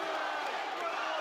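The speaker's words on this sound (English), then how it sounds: "the crowd coming alive now" Crowd at a boxing title fight, a steady wash of cheering and roaring voices filling the hall, loud and sustained, with a commentator talking over it.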